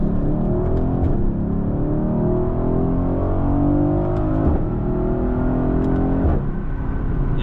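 A 2020 Mercedes-AMG GLC 63's V8 revs up and accelerates hard from inside the cabin, its loud, steady engine note rising through the gears with brief dips at each shift.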